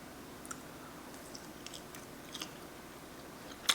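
Close, quiet chewing of cooked shrimp, with soft irregular bites and a few sharper crunchy clicks over about four seconds against a faint room hiss, the last crunch the loudest.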